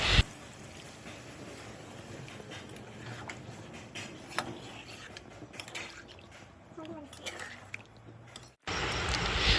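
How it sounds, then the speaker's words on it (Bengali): Water poured into a pot of mutton curry as it cooks, a steady liquid splash and bubbling running for several seconds, close and fairly loud, then a sudden louder burst of sizzling near the end. "এখন মাংসতে পরিমাণ মতো জল দিয়ে দিতে হবে"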